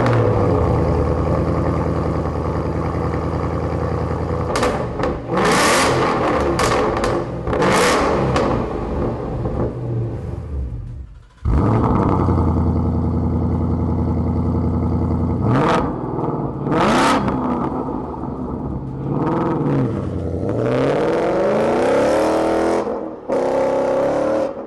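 Loud revving of a 2018-or-later Ford Mustang GT with a Corsa exhaust: repeated sharp throttle blips rising to a roar over a deep burbling idle, with a brief cut near the middle.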